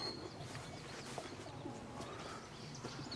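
Pigeons coo softly in a farm coop, low murmuring calls repeating under a busy background of other birds chirping nearby.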